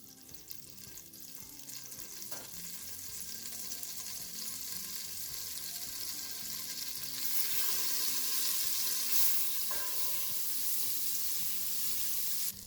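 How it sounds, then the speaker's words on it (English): A tablespoon of butter melts in a soup pot, giving a steady, close frying sizzle that builds slightly louder over time, with no voices. "I'm going to add a tablespoon of butter. Let that melt for a bit."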